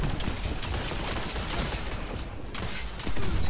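Video game gunfire rattles in rapid, dense bursts, loud and close, with continuous overlapping shots and no pauses.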